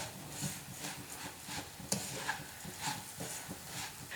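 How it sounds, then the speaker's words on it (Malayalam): Beaten rice (aval) mixture for Kerala-style aval vilayichathu is stirred in a pan, giving soft rhythmic scraping strokes with a faint sizzle and one sharp clink, quiet and with no voices. "നന്നായിട്ട് തന്നെ ഒന്ന് ഇളക്കി കൊടുക്കാം."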